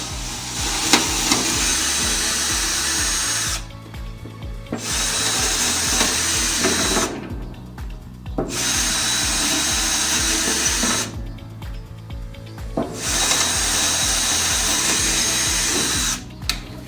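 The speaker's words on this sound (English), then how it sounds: "So we're going to drill these holes out." Power drill boring mounting holes into a wooden furniture pedestal: four sustained, loud, close whirring runs with a steady motor drone, each broken by a brief pause.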